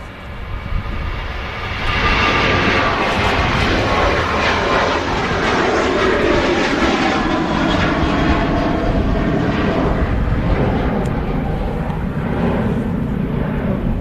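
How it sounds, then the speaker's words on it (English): A KLM Boeing 737-900 airliner at Manchester Airport gives a loud, steady jet engine roar that swells in the first two seconds and then holds broad and constant, with no talk over it. "we'll follow the KLM for now. 737-900 aircraft."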